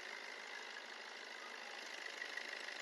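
A 2015 car engine, a Maruti Ciaz or Hyundai i20, idling steadily, a quiet, even hum that holds throughout with no voices.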